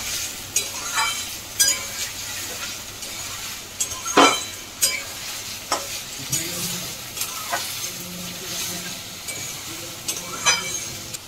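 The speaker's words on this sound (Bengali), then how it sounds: "এখন একটু নাড়াচাড়া করবো ভালো করে।" Onion and tomato stirred in a frying pan, a steady sizzle with repeated sharp clinks and scrapes of a utensil against the pan, close and fairly loud.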